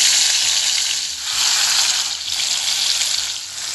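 Pieces of chicken being fried for tandoori chicken crackle and sizzle steadily in hot oil, a loud, dense bubbling hiss with slight swells and no voices.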